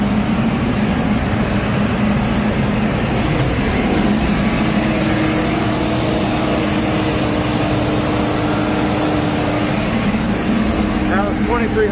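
A farm tractor engine runs in an open spring field, loud and steady with a constant low drone and wind noise throughout. The tractor has a 7060 chassis with a 301 engine and pulls 18-foot discs.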